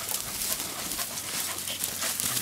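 A hunting dog pants rapidly and whimpers nearby after catching a rabbit in the field, quick breathy huffs repeating over faint outdoor background with no talking.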